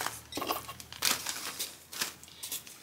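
Oak galls are dropped into a plastic bag, producing close, quiet crinkling and rustling with a few sharper plastic crackles at irregular moments.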